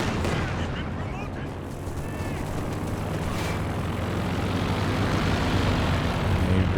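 A plane passes over the battlefield in a Company of Heroes 2 2v2 match, its engine sweeping through amid constant artillery and gunfire, while a commentator speaks over the action.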